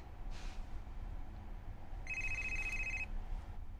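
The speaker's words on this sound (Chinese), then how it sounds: "哇，你电话一个接一个。" A telephone rings once in a quiet room, a faint electronic ring lasting about a second. A soft, brief sound comes just before it, and the ring stands alone with no talk.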